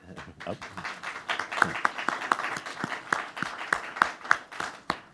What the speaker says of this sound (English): That applause was for Andre, not for me.